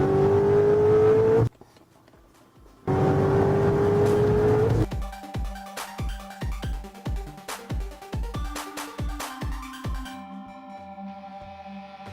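A Pontiac Firebird Trans Am under restoration revs hard with a rising engine pitch, drops to near silence, revs again, then settles into a loud, lumpy idle with strong rhythmic pulses and a steady whine on top.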